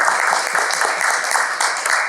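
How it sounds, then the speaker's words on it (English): Steady, dense applause from a Toastmasters meeting audience, loud and close, with many hands clapping continuously through the whole stretch and no break. "So another big round of applause for DTM."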